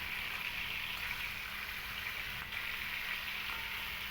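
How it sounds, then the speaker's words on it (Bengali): Salted pointed gourd (potol) pieces frying in hot white oil, a steady, even sizzle and hiss that holds at a moderate level throughout without pause. "তেলটা ভালো করে গরম হয়ে গেলে এর মধ্যে আমি লবণ মাখিয়ে রাখা পটলগুলোকে দিয়ে দেব।"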